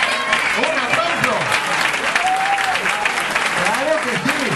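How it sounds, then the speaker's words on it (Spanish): A school audience applauds the math prize winners at a sixth-grade farewell ceremony, a steady patter of clapping with voices speaking and calling out over it. "¡Un aplauso!"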